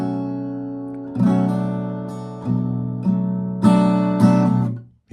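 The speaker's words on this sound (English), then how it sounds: "It's really subtle. Let me play it slower." Slower strummed guitar for a song, about five even strokes with a soft hammer-on ringing after each, sustaining close-up before the last chord cuts off.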